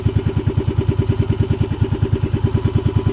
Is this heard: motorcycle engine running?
yes